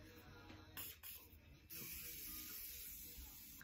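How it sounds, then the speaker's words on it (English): Morphe setting spray mists onto a face in a steady continuous hiss that grows louder and fuller partway through, close and fairly faint. "we can set our face with the Morphe setting spray"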